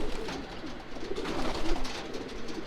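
A racing pigeon in a small loft cooing softly, a few low rolling coos close by against quiet background noise.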